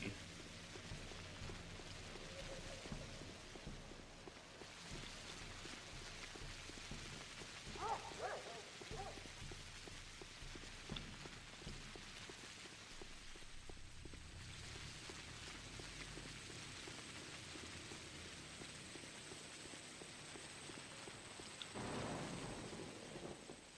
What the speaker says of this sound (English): There's an awful lot of raining here, I must say.